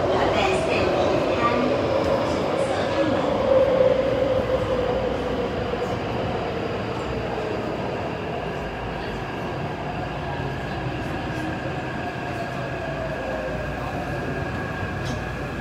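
Inside a moving Taipei Metro train, a steady rumbling roll with faint wheel and motor whine fills the carriage, loudest at the start and then settling; a person speaks briefly over it early on.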